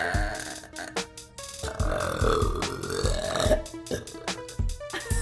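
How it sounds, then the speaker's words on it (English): A girl burps loudly several times in quick succession, long rumbling belches separated by short pauses, close and alone with no talking. "This is my no-edit burping 3 minutes long, unedited from start to finish."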